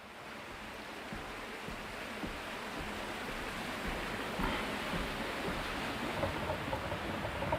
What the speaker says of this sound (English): So you can see, you can hear the water down there. It's calm there, and then it's flowing good here.